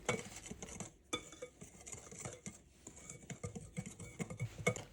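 Sugar and vanilla seeds being mixed quickly in a bowl, giving close, busy scraping and clinking taps that rise and fall steadily throughout, with no talking.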